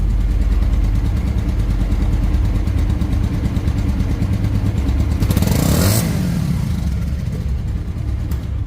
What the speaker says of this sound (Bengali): এখন রানিং অবস্থায় কেমন সাউন্ড আছে দেখুন